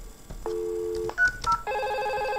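A simulated network phone places a call, short electronic tones and beeps followed by a repeating warbling ring, clear and close with no talk.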